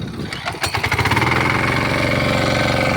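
A mini power tiller engine catches after a brief pull, then settles into a loud, steady running chug close by, with no talking.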